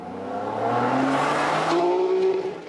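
A Ferrari Enzo driven hard around a track hairpin, its engine roaring loud and close as it holds revs, then rises in pitch while accelerating out of the corner.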